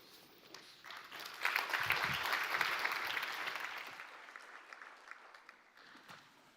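Audience applause at a conference on rebuilding Ukraine, a sustained burst of clapping from a seated crowd that swells quickly, holds for several seconds, then tapers off.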